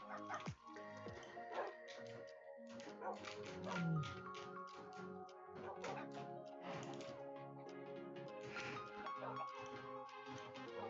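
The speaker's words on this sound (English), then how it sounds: "More puppies." Minecraft puppies in a video game bark and whimper in short repeated yips and whines, layered over soft game tones and taps, with a voice talking faintly now and then.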